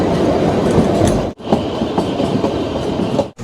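The Shimla toy train rolling along mountain rails, a loud close rumble with rhythmic clickety-clack of the wagons, briefly cutting out twice as if passing into a tunnel.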